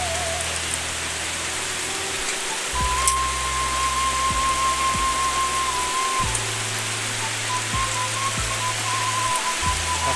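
Steady rain pours down during the rainy season, a dense continuous hiss of drops on surfaces, with low rumbling tones shifting underneath and no voices.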